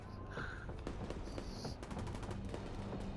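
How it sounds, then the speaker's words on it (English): Gunfire in the video game Into the Dark Manhunt comes as rapid, rattling bursts of shots, fairly quiet and distant-sounding, continuing steadily throughout with no talk. "You can hear all the gunfire."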